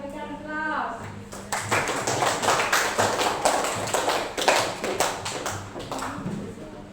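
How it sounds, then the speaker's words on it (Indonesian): A classroom group claps in applause, a burst of many hands patting in a fast, uneven rhythm that starts after a brief voice and carries on for several seconds. "kita berikan aplaus"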